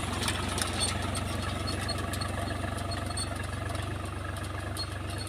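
A farm tractor's engine idles and chugs steadily nearby in a village field, a continuous low mechanical drone with a faint knocking pulse and no talking.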